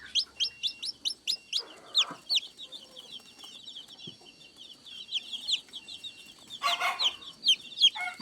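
Young chicks peep in a rapid series of sharp, high chirps near the start and again toward the end, with softer clucking and faint rustling between, close and without talk.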